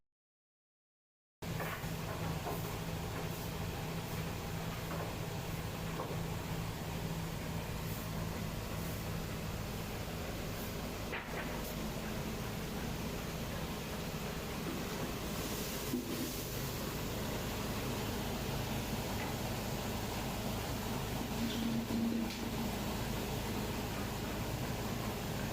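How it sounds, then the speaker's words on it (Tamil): A rice mill machine milling paddy produces a steady, dense mechanical roar with an even hum throughout, continuous and unchanging after a brief silent start. "ரைஸ் மில் மிஷின் ஓடிக்கிட்டு இருக்கும்போது பயங்கர சவுண்டாக இருக்கும்."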